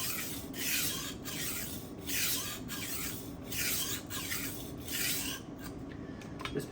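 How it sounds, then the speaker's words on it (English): A knife blade rasps across a 320 grit sharpening stone in full sweeps, about ten even strokes in a steady rhythm, close and clear with no voices. "Now you can do section sharpening like this."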